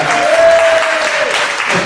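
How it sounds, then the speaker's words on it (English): An audience applauds at a talk, a brief burst of steady clapping from a crowd, loud and close, with a faint tone briefly audible underneath. "Give this man a round of applause."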